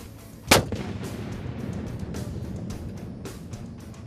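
A mortar fires a single loud, sharp round during a live-fire exercise, followed by a rumbling outdoor tail and fainter distant reports.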